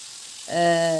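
Thin slices of beef thigh meat drop into a hot pan coated with oil and a sprinkle of sugar, setting off a sudden loud sizzle halfway through with a steady tonal hiss after it.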